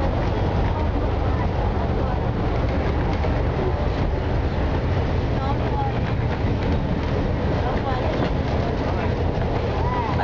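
A Georgetown Loop Railroad train ride near Silver Plume gives a loud, constant rumble of rolling cars, with faint voices talking under the noise throughout.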